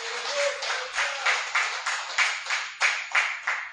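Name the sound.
congregation clapping for the Lord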